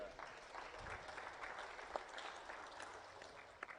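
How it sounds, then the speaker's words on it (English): Audience applause at a Charolais cattle sale, a steady moderate clapping from the crowd that runs throughout with a few sharper individual claps near the end. "give them a big round of applause too"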